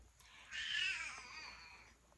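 A cat gives a single drawn-out meow, faint and fairly close, in an otherwise quiet room.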